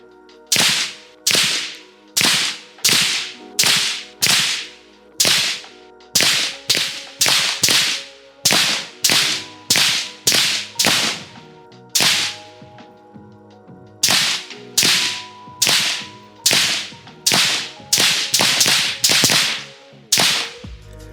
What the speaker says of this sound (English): Now that you heard how Whisperstrike sounds on 3 different rifles